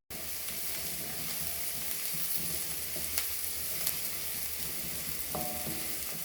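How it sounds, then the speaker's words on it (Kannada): Chopped onions fry in oil in a pan for masala wheat dosa, giving a constant bright sizzle, close and fairly quiet, with a few faint stirring scrapes and no voices. "ಇವಾಗ ಈ ಈರುಳ್ಳಿನ ಚೆನ್ನಾಗಿ ನಾವು ಫ್ರೈ ಮಾಡ್ಕೋಬೇಕು"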